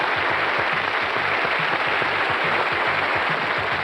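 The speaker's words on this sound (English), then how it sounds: "we'll give you a round of applause for being in the top 3 of this series" Studio audience on a 1995 Going for Gold quiz show applauding, a dense, steady wash of clapping that fills the room without a break for about four seconds, with no voices over it.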